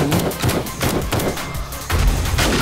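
Explosions blast against an iron fence in the video game 7 Days to Die, a run of heavy, rapid booms and thuds in close succession, loud and near, with a stronger blast near the end.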